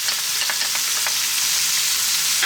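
Celery, carrot and chopped garlic fry gently in a pot for a chicken potato stew, giving a steady, close hiss of sizzling with faint crackles throughout and no voices.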